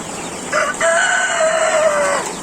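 Chickens in a rain-soaked coop: one close, clear drawn-out crow or call of about two seconds, standing alone against a quiet background.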